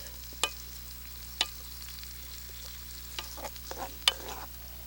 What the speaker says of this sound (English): Oh man, just listen to that sizzle.